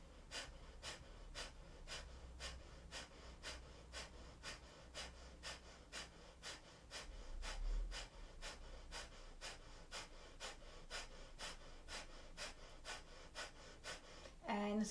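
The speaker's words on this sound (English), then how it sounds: "Slow it down, exhale it all the way out. And then let the in breath come in all on its own." Slow, deep breathing during a yoga core and arm-balance practice, heard as a long, regular series of soft exhales and inhales, close to the microphone, with no talking.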